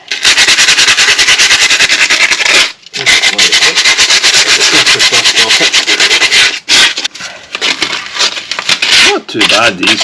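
Rusty metal on a Porsche Boxster is sanded by hand, a loud close rasping rub in rapid back-and-forth strokes with two brief pauses, and a voice briefly talks near the end.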